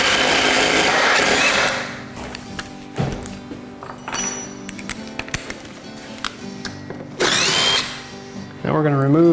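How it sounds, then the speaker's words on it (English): A power drill bores a hole through a 1x4 wood board, with bursts of loud whining drilling separated by quieter pauses, clunks and taps, ending in a rising motor whine. "we're gonna drill a hole through our 1x4 where we want the doweling to go"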